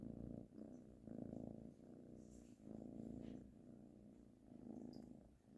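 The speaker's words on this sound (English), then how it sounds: "You purring already?" Cat named Charlie purring close up on a bed, a soft steady rumble that swells and fades with each breath in a slow, even rhythm.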